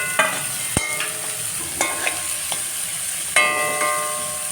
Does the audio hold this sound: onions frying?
yes